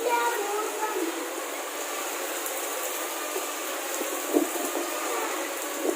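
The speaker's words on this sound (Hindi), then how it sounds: "यहाँ तो तूफान आ गया अचानक से।" Sudden storm sending rainwater pouring into a house, a steady broad rushing wash with occasional splashes and faint voices beneath.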